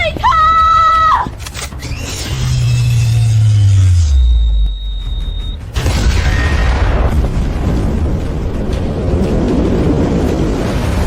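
A loud explosive boom blasts open an iron door amid thousand-degree heat, after a descending whine, with a sharp cry and a lingering rumbling roar.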